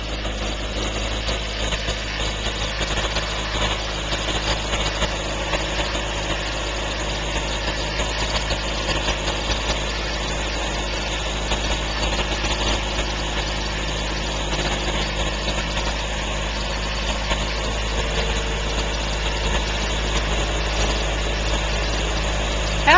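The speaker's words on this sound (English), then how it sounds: "There he's scraping the driveway." A vehicle engine idles steadily during a snowstorm while snow is scraped off a driveway, a continuous mid-pitched drone with faint mechanical rattling and scraping, no talk.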